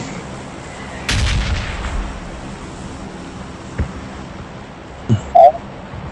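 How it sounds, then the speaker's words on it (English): A heavy explosion in a PUBG Mobile bombing zone booms loud and close, followed by a rumbling tail and a few smaller distant bangs. "There's a bomb. I mean,"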